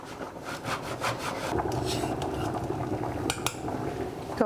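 Food is rubbed down a hand grater with a flat hand while cooking caprese pasta, giving a steady run of close, scratchy rasping strokes with small metallic clinks, and no talking.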